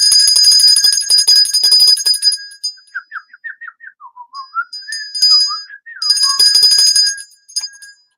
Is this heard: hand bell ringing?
yes